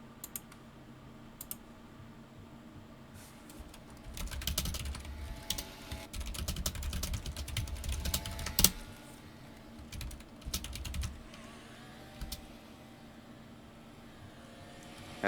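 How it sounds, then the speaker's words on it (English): Computer keyboard keys clicking in bursts of typing, close and moderately loud against a low steady background hum, with a few quieter isolated taps before and after. "I'm typing."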